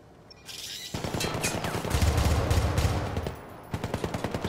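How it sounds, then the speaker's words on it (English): Sustained, dense automatic gunfire fills the shootout in the video game Syndicate, a loud continuous barrage of rapid bursts that briefly eases and then resumes with sharp, evenly spaced shots. "Like a constant barrage of bullets."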